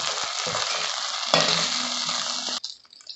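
Prawns frying in hot oil, a loud continuous sizzle with a sharp clink partway through, cutting off abruptly near the end and leaving only faint clatter.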